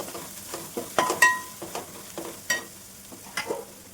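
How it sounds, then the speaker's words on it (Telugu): Turmeric being stirred into fish biryani ingredients in a pan: soft scraping and stirring strokes in an uneven rhythm over a faint sizzle, close and moderately quiet. "పసుపు, కొంచెం మిక్స్ చేసేసుకొని"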